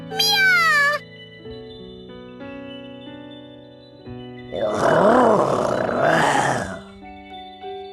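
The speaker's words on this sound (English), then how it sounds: "Meow! Meow!" A cat meows in the Bravely Second video game: a high, wavering meow up front, then a stretch of sustained game music, then a louder, rougher run of growling meow cries over the music.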